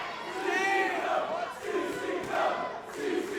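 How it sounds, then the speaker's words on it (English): A wrestling crowd at a CCW Alive event chants together in rhythmic, swelling waves of voices, loud and filling the arena without any single voice standing out. "And you hear the CCW chants"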